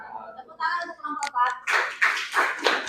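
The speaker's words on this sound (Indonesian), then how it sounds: "Tepuk tangan untuk kelompok" A classroom claps for a presentation group, a few loud close hand claps in a quick burst that follows brief speech at the start.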